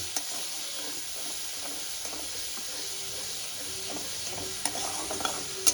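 Tomato paste sizzles and fries in a pan on a low gas flame, with a steady hiss and occasional soft scrapes of stirring, fairly close and uninterrupted by talk.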